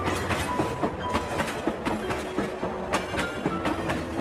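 A train running on rails sounds nearby as a continuous rumble, with a rhythmic clickety-clack of wheels over the joints and no voices.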